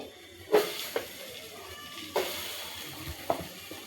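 Chopped tomatoes sizzle and spit in hot oil in a kadhai, a steady soft frying hiss broken by a few sharp pops and clinks of stirring, close and moderately quiet.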